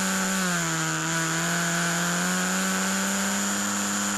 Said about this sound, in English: Accelerates out of Luffield, completes another lap of the race.